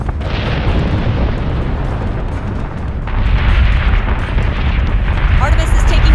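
Dense, continuous rumbling blasts of missile explosions in the space combat game Battlestar Galactica Deadlock, loud and sustained with a surge in intensity midway, voices faintly mixed beneath.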